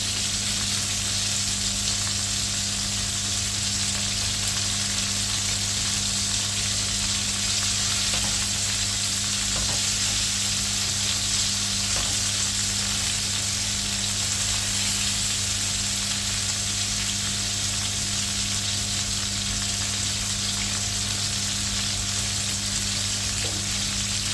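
Coconut dumplings fry in a pan as they are turned over, giving a steady, close sizzle with soft hiss and occasional light scrapes and clicks, no voices.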